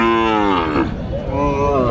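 A Sahiwal heifer at a cattle market in Naogaon gives one loud, close, drawn-out moo that fills the short moment, with no voices over it.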